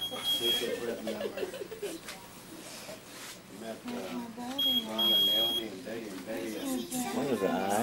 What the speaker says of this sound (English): what's this alarm going off?